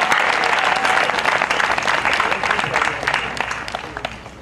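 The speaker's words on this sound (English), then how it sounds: "Give yourself a round of applause." A graduation audience applauds a class of 2011 at a commencement ceremony, with dense, steady clapping that fills the hall and holds loud throughout before easing slightly toward the end.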